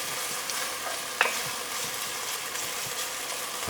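Wagyu bacon frying in its own rendered fat, a dense steady sizzle and crackle close by, with a brief stir or scrape partway through.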